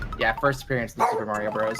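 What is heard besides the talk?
dog barking in the room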